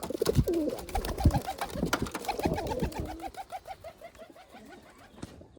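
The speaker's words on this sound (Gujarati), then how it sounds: "આની અંદર જો કેટલા બધા કબૂતર બેઠા છે" Several pigeons coo close by in overlapping throaty, rolling calls that gradually thin out toward the end.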